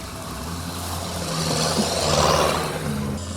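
A Sherp all-terrain vehicle drives off-road, its engine a steady, moderately distant drone that swells slightly and then eases, with no talking.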